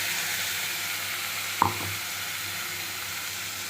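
Ground masala paste sautéing in a pan gives a soft, steady sizzle, broken by a single sharp clink of a utensil partway through.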